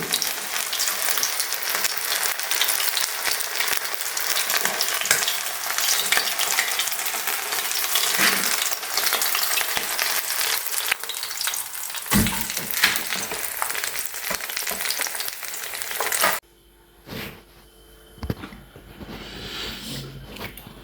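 Chicken fries in a pan for rose chicken, a loud continuous sizzle with stirring noises, close up, that cuts out abruptly near the end and leaves a few quiet clatters.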